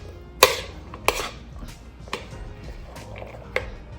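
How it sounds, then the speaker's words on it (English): Carrots and other vegetables tipped into cold pasta for a Jamaican pasta salad: a handful of sharp, scattered clinks and taps of utensils against a bowl, close and fairly quiet, without talk. "Now that the pasta is cold, we're going to add our vegetables"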